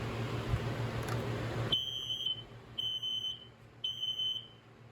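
A Kidde hardwired smoke alarm chirps in three quick, shrill beeps at a fast cadence after a short stretch of low room noise, close and loud.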